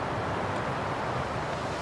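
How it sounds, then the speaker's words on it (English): Steady, faint wind blows through the snowy wilderness of the survival game The Long Dark, a soft continuous rush with no voices or other distinct sounds. "It's a bit windy."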